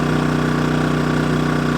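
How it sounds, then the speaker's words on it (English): KINGS 2kVA generator idling in economy mode at lowered revs, a steady, even, close engine hum with a regular mechanical throb. "I thought I'm just going to put it on economy mode and like it's dropped down revs even further"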